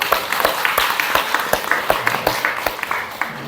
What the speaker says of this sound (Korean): 그분한테 큰 박수 한번.